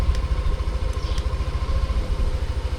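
Motorcycle engine idling nearby, a rapid low throbbing pulse with faint mechanical clatter, steady and close throughout with no voices.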